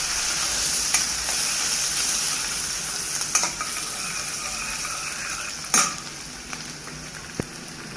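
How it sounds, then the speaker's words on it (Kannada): Okra (ladies finger) fries steadily in a pan in a home kitchen, a continuous close sizzle with a few sharp clicks and utensil taps scattered through it. "ನಾನು ಬೆಂಡೆಕಾಯಿ ಫ್ರೈ ಮಾಡಕತ್ತೀನಿ ನೋಡ್ರಿ"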